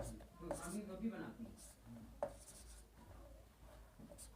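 Pen scratching across paper as a definition is written out by hand, with soft intermittent strokes and taps under someone speaking quietly.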